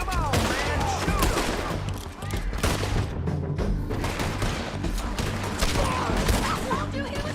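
Dense, continuous gunfire from a Red Dead Redemption 2 shootout, rapid overlapping shots crackling without pause against a busy game mix, with voices shouting faintly underneath.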